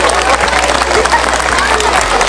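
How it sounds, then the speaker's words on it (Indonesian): An audience of schoolchildren and adults at a religious lecture in a Pekanbaru school claps for two people, loud and close. A crowd murmur runs underneath and some voices are mixed in. "kasih tepuk tangan untuk orang ini berdua"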